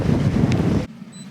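Strong wind buffets an anchored sailboat in a bay, a loud, roaring rush close by that cuts off abruptly near the end and leaves a quieter low rumble.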